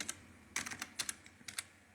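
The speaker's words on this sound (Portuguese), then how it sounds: "Você pode digitar o código dela aqui." Quick, uneven clicks of fingers typing a stock ticker code on a computer keyboard, about a dozen light keystrokes in two seconds, close but fairly soft, with no voices.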